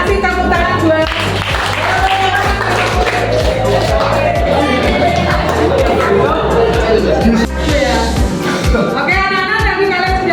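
A classroom of students gives a short round of applause, rhythmic group clapping mixed with chatter and voices, steady and loud throughout.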